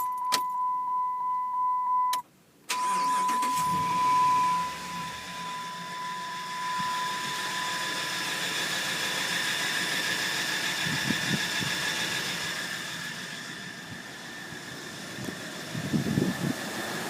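A Dodge Ram 1500 pickup cranks and starts after a steady tone and a brief pause, then settles into a continuous idle with a thin high-pitched whine running over the engine noise.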